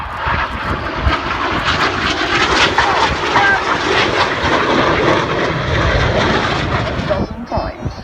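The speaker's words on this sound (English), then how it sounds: "We're calling these the Winkle rolls" Red Arrows jet aircraft perform rolls at an air show, a loud, continuous roaring jet engine noise that holds steady nearly throughout before easing slightly at the end.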